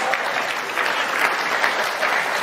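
Audience applause at a political statement event in Germany, steady dense clapping filling the whole stretch at fairly close range with no pauses.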